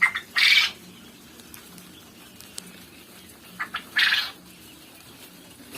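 Frightened quails on a quail farm flutter in two short bursts of wing flapping and squawking, one at the start and another around four seconds, with a quiet indoor background between.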